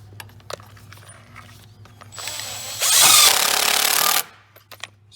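Power drill driving a screw into a wooden raised bed, a faint hum building into a loud, steady whir for about a second and a half before cutting off, with quiet handling knocks around it.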